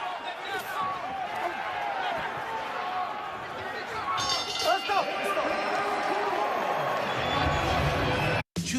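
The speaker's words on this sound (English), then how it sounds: "And you hear the reaction from the crowd." Arena crowd at a disputed lightweight championship boxing bout, Kambosos vs Haney, roaring and cheering steadily throughout, with a commentator's voice running under the noise and a brief cut near the end.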